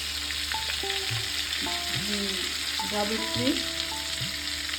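Whole spices frying in butter added to the leftover oil from frying paneer, giving a continuous close sizzle and crackle with stirring, while a voice speaks briefly over it.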